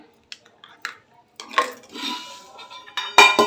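A spoon mixes powder in a bowl with a few light taps, then scraping and clinking strokes that come and go, close up.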